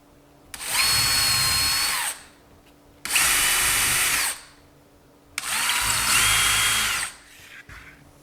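A power drill drives screws into a wall stud to hold a mini split bracket, in three long loud whirring runs of about one and a half seconds each with short pauses between, close by.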